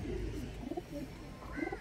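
Pigeons coo softly in a loft, several low rolling calls overlapping, faint and near.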